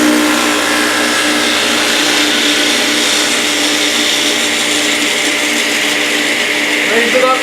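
A running table saw hums loudly and steadily while its blade is raised, a constant close whine with a dense, unbroken roar throughout.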